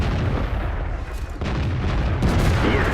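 A T-10 Soviet heavy tank's cannon fires in a video game, a heavy booming blast over rumbling battle noise, with another burst arriving later on.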